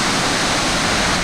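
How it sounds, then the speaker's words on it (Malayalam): Cheeyapara waterfall in Idukki on the road to Munnar, a dense, loud, unbroken roar of rushing water heard close up, with no voices over it. "ചീയപ്പാറ വെള്ളച്ചാട്ടം മൂന്നാറിലേക്ക് പോകുന്ന ആളുകളുടെ മനസ്സ് കവരുന്ന ഒരു സുന്ദരിയാണ് ചീയപ്പാറ വെള്ളച്ചാട്ടം"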